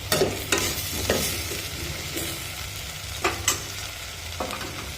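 A sprig of curry leaves sizzling in hot oil for a potato curry, a loud close crackling sizzle broken by a few sharp spatter bursts and stirring scrapes, with no talk.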